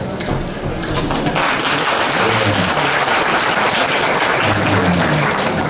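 An audience at a high-school book-debate final claps steadily after a speech, a dense, even wash of applause filling the room throughout.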